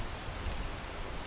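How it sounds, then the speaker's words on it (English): Steady rain falling in a video game, a continuous soft broadband hiss of medium loudness with no talk over it. "Oh, it's raining."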